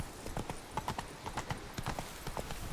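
A horse gallops over rocks in The Witcher 3, with rapid, uneven hoof clops striking hard ground in quick succession, close and distinct.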